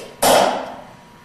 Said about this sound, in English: Then we're going to start to pre-drill or punch holes in